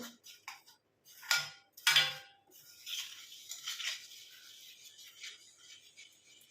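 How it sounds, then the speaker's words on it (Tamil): Powders are stirred together with a spoon in a bowl for a hair-darkening home remedy, giving sparse light clinks and scrapes, a couple of sharper taps, then quieter steady scraping, close and faint. "ரெண்டையும் நல்லா அந்த மாதிரி கலந்து விட்டுடலாம்"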